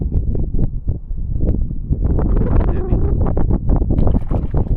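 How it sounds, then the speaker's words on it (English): Strong wind buffets the microphone during a kayak paddle on a cold spring at Merritts Mill Pond in Florida. Loud, low, gusty rumbling fills the whole stretch. "Man, the wind's blowing me like crazy."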